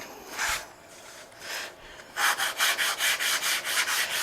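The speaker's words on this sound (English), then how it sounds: "We'll just sand the rest of it down." A small sanding block rubs across the wood of a model airplane aileron, first in a few slow, separate strokes and then in a quicker, regular back-and-forth rhythm, close up and dry.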